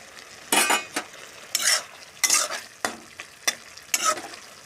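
Fried moka fish stirred into a curry in a pan: a string of sharp spatula scrapes and clatters, about seven strokes in uneven rhythm over a soft, steady sizzle, close up with no voices.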